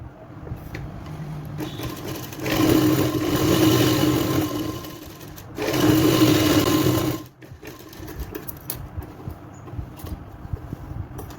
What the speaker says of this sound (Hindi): और नीचे तरफ भी हम इसे सिलेंगे।